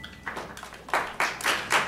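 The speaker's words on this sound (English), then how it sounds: "Please don't applaud this." Scattered applause from an audience at a city council meeting, a few sparse claps that grow into louder, fuller bursts of clapping near the end.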